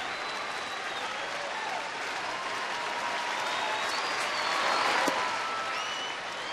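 A ballpark crowd at a Texas Rangers versus Angels baseball game applauds steadily throughout, a dense wash of clapping that swells slightly near the end, with scattered whistles.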